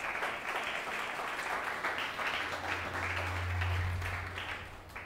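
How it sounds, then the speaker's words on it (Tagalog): Church congregation at a Sunday worship service applauding: steady, dense clapping from a crowd that continues through the whole stretch, with a low hum beneath it. "Yun pong the best na palakpak para kay Jesus."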